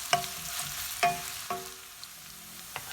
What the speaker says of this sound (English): stir fry it till the rawness of the onion goes